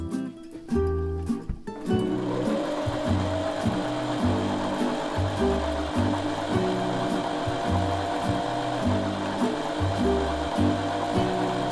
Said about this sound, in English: that's the bobbin done